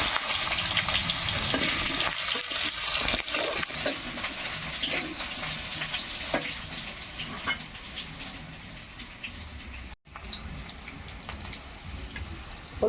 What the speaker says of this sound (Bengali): আলুটা ভাজবার আগে আমি 5 ফোড়ন আর 2টো শুকনো লঙ্কা দিয়ে দিচ্ছি।